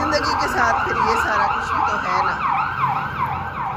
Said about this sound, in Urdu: پیچھے کوئی ایمبولینس کی آواز آ رہی ہے.